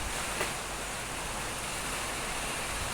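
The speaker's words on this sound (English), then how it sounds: "sorry about the noise, but it's just pouring rain outside" Heavy rain pours steadily outside during a summer downpour in Denmark, a constant broadband hiss with no breaks, moderately loud and even, with no voices.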